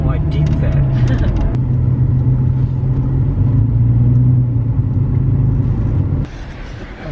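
Steady low rumble inside a moving car, with road and engine noise holding level before dropping away near the end; voices talk over it at times.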